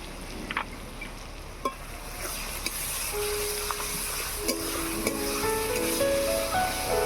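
Ginger and garlic paste sizzles in a frying pan with onions while a fish kalia cooks: a steady, close frying hiss runs throughout, with a few light clicks and scrapes of stirring and no voices.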